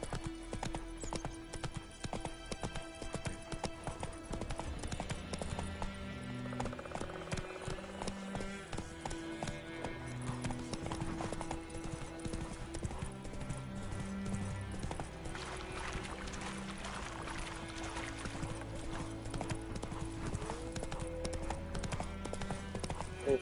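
Roach the horse gallops in The Witcher 3, with rhythmic clip-clop hoofbeats running under a continuous orchestral game score and an occasional whinny, and no speech.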